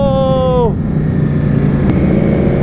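Ducati superbikes, more than seventy in a group, rumble loudly and close at idle, with one engine whining down in pitch at the start over a steady, dense mechanical drone.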